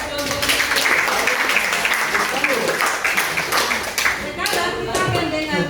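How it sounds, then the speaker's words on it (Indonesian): Students in a classroom clap for a group, uneven hand-clapping mixed with chatter and voices, fairly close and lively throughout. "tepuk tangan buat kelompok"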